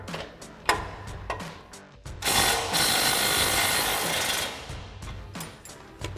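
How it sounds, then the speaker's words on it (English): A 19mm lower shock mount bolt with a 19mm nut comes out of the front suspension of a 2016-2023 Toyota Tacoma, heard as close, quick ratchet clicks in bursts with a longer stretch of steady mechanical whirring in the middle. "we're gonna take our lower shock mount bolt out, the 19mm head with the 19mm nut"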